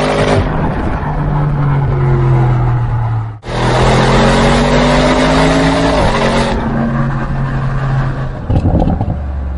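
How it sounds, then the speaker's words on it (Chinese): An Audi RS Q8 SUV's engine and exhaust drone loudly from inside while driving, a strong steady roar whose pitch climbs, cuts out briefly, then resumes and settles lower. "我觉得这辆车的排气声音好像没有 S7 来得这么的炸裂"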